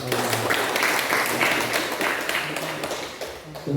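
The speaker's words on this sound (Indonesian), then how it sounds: "Beri aplaus untuk beliau." An audience claps together at a student press association journalism training in Palu, a dense, steady wash of applause lasting the whole stretch with a slight dip near the end.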